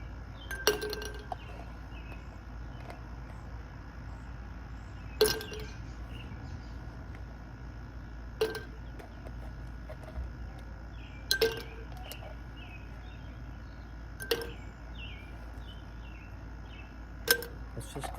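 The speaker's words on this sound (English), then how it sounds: "So I'm gonna put some ice in there." Ice cubes dropped one by one into a tall glass of Clamato tomato cocktail for a michelada, a handful of sharp, separate clinks spaced a few seconds apart over a quiet background.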